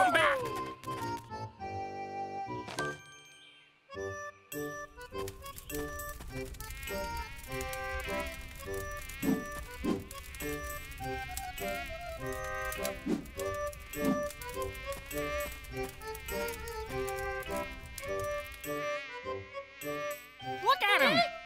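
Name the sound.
swarm of buzzing mosquitoes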